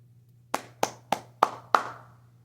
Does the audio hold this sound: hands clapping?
yes